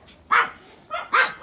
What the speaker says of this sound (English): That's Kiki barking